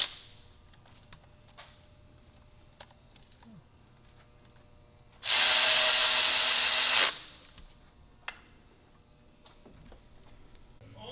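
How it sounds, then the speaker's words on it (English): Power tool tightening down parts of an LT1 intake manifold in a garage, with light clinks and taps around a loud sustained burst of about two seconds from a drill or air tool, then quieter handling noises. "Matt's just getting everything tightened down and hooked up for the other Trinity manifold"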